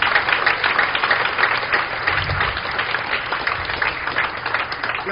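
A church congregation claps in praise, a dense, continuous wash of many hands that stays loud and even throughout, with no talking over it.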